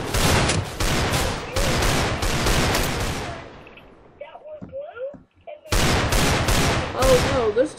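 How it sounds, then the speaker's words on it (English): Rapid bursts of Minecraft gunfire crackle loudly, pause briefly, then resume, with a voice talking in between. "there's too many gunshots in the hood"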